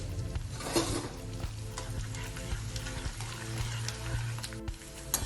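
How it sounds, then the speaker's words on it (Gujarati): Steady sizzling and bubbling of edible gum frying in hot ghee, with occasional scrapes of a stirring utensil. "ગુંદર એકદમ સરસ તળી ગયો છે ને"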